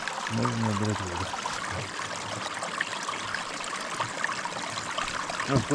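Steady water trickles from an improvised spout on a mountain hike in Altai, a continuous soft broadband splash with brief low voice-like murmurs near the start.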